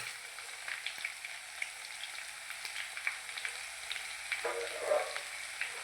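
Garlic paste fries in a pan with a soft, continuous sizzle and crackle, faint and steady with a few brief louder pops near the end, no voices over it.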